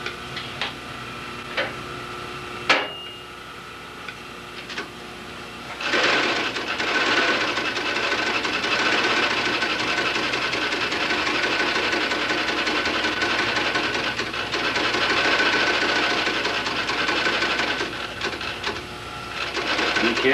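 A post sewing machine stitches leather shoe vamps and counters, starting with a few sharp clicks, then a steady rapid mechanical chatter that runs from about six seconds to the end at moderate loudness.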